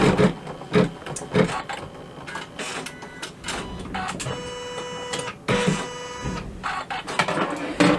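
An embroidery machine stitches a trimming outline on a vinyl glasses holder, giving a busy mechanical whirring and rattling with sharp clicks and bursts, close and fairly loud, no talking.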